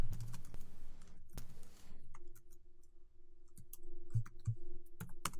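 Fast clicking on a computer keyboard as code for a Webpack test is typed, a burst of close taps followed by scattered sharper keystrokes over a faint steady hum.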